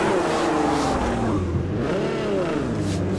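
A GT3 race car engine in the racing game Project CARS 2 revs loudly through gear changes, pitch climbing, dropping and climbing again.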